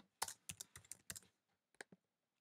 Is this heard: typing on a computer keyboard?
yes